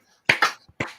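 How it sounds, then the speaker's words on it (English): Fingers snap in time to a beat, three crisp snaps close by, with a short gap before the last one. "snap your fingers to the beat like this"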